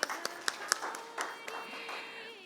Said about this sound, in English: So let's have a clap for everyone.